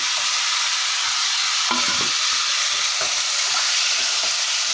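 Steady frying sizzle fills the clip, with occasional scraping clicks as chicken is stirred and turned in a hot pan.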